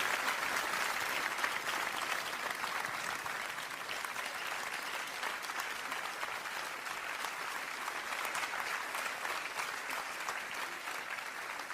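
A concert audience applauds a children's choir with steady, dense clapping that holds at an even level throughout, loud and sustained without voices over it.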